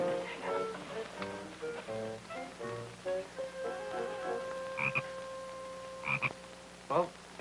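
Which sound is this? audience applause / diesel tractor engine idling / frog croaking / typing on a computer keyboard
frog croaking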